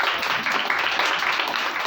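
A church congregation claps and applauds loudly for Jesus, a dense, even wash of many hands that carries on without a break.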